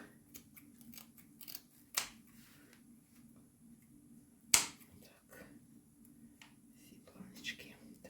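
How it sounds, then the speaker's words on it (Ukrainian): Scissors trimming a mackerel, with sharp, crisp snips at irregular intervals, a few louder close cuts standing out over quiet handling and faint background sound. "Так, я її гарненько всю обрізаю, щоб не мішало нічого."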